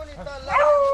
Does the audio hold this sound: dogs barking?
yes